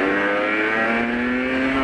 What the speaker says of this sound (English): Oh, so much traffic today.